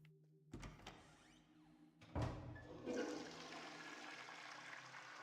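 A toilet flushes in the video game Lorelei and the Laser Eyes, with a clunk, a loud rushing surge of water, and then a steady refill hiss. No one speaks.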